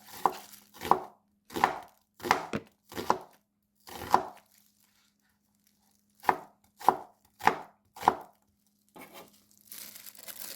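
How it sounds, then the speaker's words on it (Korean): A knife slicing onion into thin strips on a cutting board, crisp separate chops in quick clusters with short pauses between, close and clear with no talk. "양파를 채 썰어요."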